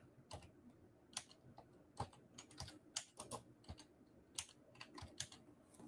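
Rapid, uneven keystrokes clatter on a computer keyboard, close by, with short pauses between bursts of typing.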